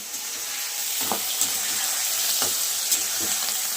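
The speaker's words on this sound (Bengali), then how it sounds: "এবার আমি মটরশুঁটি, ধনিয়া পাতা, পেঁয়াজ, টমেটো একসাথে আমি তেলে দিয়ে দেব।" Peas, coriander leaves, onion and tomato frying together in hot oil for a home-style fish kalia, a steady loud sizzle with a few sharp spatters and utensil clinks.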